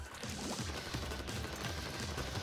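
Cannons fire on a map in Splatoon 2, producing repeated muffled booms inside a dense, steady wash of game noise and action, with no one speaking.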